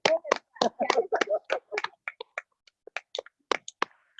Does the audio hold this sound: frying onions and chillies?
no